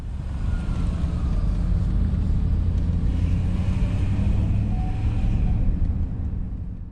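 A car rolls through an old small town with a constant low road rumble and tire noise from inside the cabin, steady throughout.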